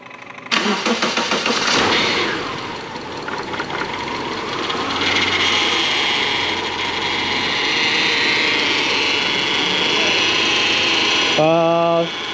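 2011 Subaru engine cranking and catching, then running steadily up close with a possible alternator whine over the idle, and a brief voice near the end.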